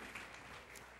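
A church congregation claps for a brief moment, a dense, even burst of many hands with no pauses, heard as one continuous wash of applause.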